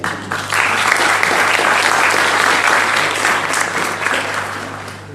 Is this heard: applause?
yes